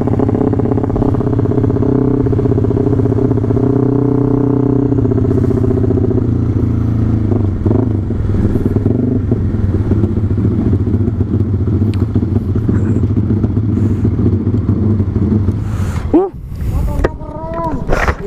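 A Suzuki Satria two-stroke motorcycle with a 240cc two-cylinder engine revs hard, its loud buzzing drone rising and falling through gear changes, with a sharp burst near the end.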